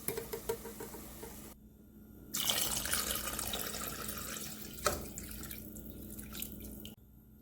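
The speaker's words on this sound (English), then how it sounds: "I'm going to rinse out the can and put a can full of water." Water from a tap splashes and runs while a tomato puree can is rinsed out in a kitchen, with dripping and pattering in the sink, broken by short pauses.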